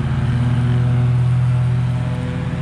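A lawn mower cuts grass on a commercial property, its engine a steady, loud, low droning hum with a constant pitch throughout, close by and with no voices.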